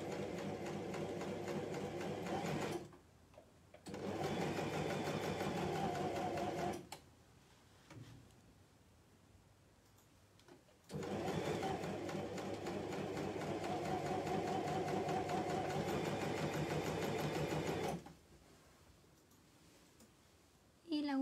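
Coverstitch machine running in long steady bursts of rapid mechanical whirring and clicking while stitching fabric, stopping and restarting several times with quiet pauses between, close and clear.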